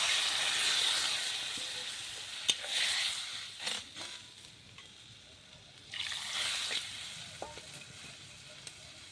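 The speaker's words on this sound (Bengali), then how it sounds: "এখন আমি দিয়ে দিব জল।" Water poured into a hot pan of sautéed egg paneer masala bursts into a loud hiss and sizzle that swells, fades and flares again, with faint stirring scrapes and clinks, no voices.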